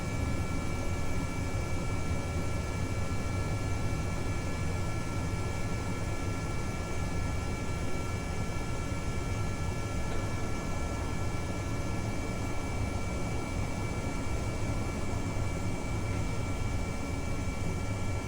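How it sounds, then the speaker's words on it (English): A large plane taking off along a runway in Kerbal Space Program, with a steady, droning jet-engine roar and hiss held at an even level for the whole stretch, and no talk. "it's quite a big plane, so we may be using most, if not all, the runway to take off"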